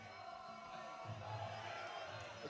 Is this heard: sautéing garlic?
no